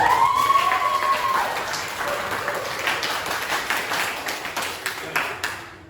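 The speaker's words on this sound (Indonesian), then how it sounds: "Ya, tepuk tangan terlebih dahulu." Classroom students break into applause, a dense burst of clapping that gradually thins and fades, with a brief tone near the start.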